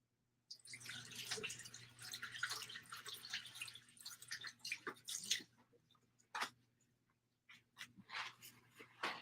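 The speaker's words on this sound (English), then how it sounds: "So let me rinse this one off." Water runs and splashes as dyed yarn is rinsed off, an irregular wash of close splashing and dripping with brief pauses, over a low steady hum.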